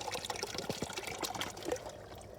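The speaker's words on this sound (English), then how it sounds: "Now it's flooding again, so that the water is coming up into the root zone of these plants" Water from an aquaponics siphon flows and trickles continuously into a grow bed, flooding up around plant roots with steady close gurgling and splashing.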